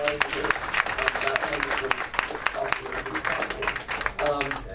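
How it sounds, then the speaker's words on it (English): Applause for Romeo from an audience at a farewell gathering, a dense patter of clapping mixed with crowd noise and scattered voices, fairly loud throughout with some talk underneath. "definitely give him a round of applause"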